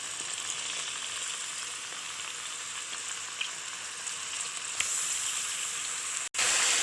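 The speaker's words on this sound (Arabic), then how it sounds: "ونحط فيها ربع كوباية زيت، ونبدأ ننزل بالفراخ بتاعتنا" Chicken pieces frying in a quarter cup of oil in a deep pan, a steady close sizzle with a few soft clinks and no talking.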